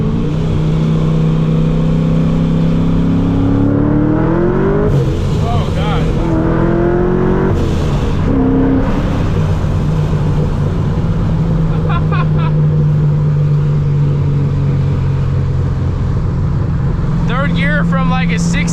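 Supercharged C6 Corvette of about 800 horsepower on R888 tyres, accelerating hard from around 60 with the rear wheels spinning: a loud, close engine roar with rising revs, gear changes and a sustained drone, while someone talks excitedly over it.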